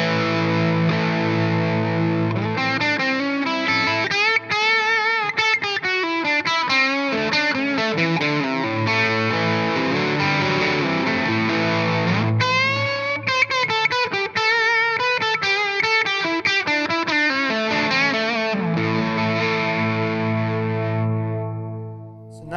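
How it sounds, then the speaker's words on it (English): An electric guitar played through Xotic AC and RC Booster pedals gives a warm blues distortion, sustained chords and note runs ringing loud and continuous for over twenty seconds, with no voice. "Nice blues distortion too, actually."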